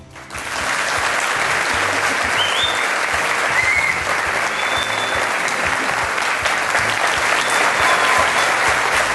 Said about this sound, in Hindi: और ये तालियों का सिलसिला बजते रहना चाहिए।